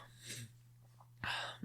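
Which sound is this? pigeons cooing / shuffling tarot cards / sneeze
sneeze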